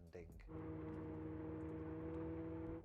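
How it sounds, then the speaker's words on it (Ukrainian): A synthetic engine-like drone from an electric Abarth 500's artificial engine sound, with steady tonal hum rising after a brief initial burst and holding evenly, sounding artificial and smooth. "Тільки послухайте звук на новому Abarth 500 i"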